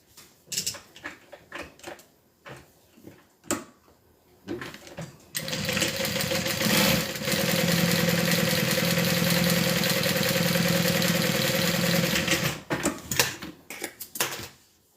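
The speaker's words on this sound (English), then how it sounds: "I like to do a row of stitching on the top and on the bottom." A sewing machine runs steadily for several seconds, stitching a row along folded fabric pieces being joined, preceded and followed by short bursts of stitching and clicks of handling.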